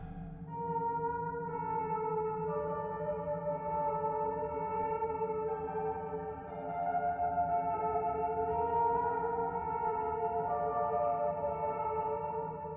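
A soft piano melody from the video game Fatal Frame plays alone at low volume, with gentle sustained notes changing in a slow, steady line.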